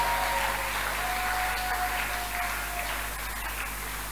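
A church congregation applauds its preacher with continuous, dense clapping that holds steady for several seconds. A faint sustained tone sits underneath.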